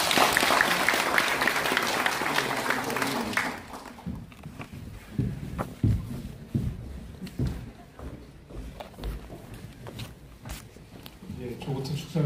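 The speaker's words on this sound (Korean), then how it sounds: "모두 큰 박수 부탁드리겠습니다" Guests at a seminar on a Sejong administrative capital pledge give a burst of applause that stops after a few seconds, followed by scattered shuffling, thumps and movement noise in the hall.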